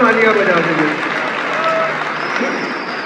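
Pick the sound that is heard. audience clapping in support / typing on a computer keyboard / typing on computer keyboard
audience clapping in support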